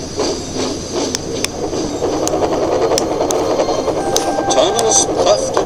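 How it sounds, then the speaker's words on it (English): Cartoon steam engine Thomas the Tank Engine puffing across the countryside, rhythmic hissing chuffs with clickety wheel sounds and a whistle-like tone, steady and close, with a voice narrating over it. "Thomas puffed across the countryside."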